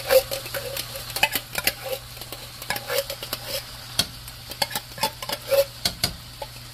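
Ground beef sizzling in a frying pan as sauce is added and stirred, with repeated scraping and clinking of a utensil against the pan over a steady sizzle and no talk.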